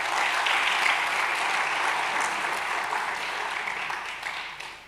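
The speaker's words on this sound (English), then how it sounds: "Can we have another round of applause for the" A lecture audience claps steadily, a warm wash of applause that slowly tapers off.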